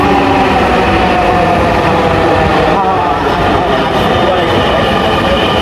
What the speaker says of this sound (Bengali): এই যে আমাদের মেট্রো আসতেছে